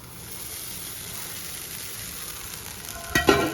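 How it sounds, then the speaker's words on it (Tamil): Sago pearls fry with salt and turmeric for sabudana khichdi, giving a soft, steady sizzle in the pan. A brief clatter of stirring near the end rises over the frying. "இப்போ இதில் நம்ம ஜவ்வரிசி ஆட் பண்ணிப்போம்."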